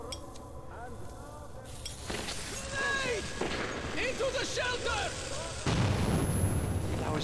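A grenade goes off in the player's hand in the video game Metro 2033, a sudden loud blast with clattering debris, followed later by a second heavy burst, as someone speaks over the noise.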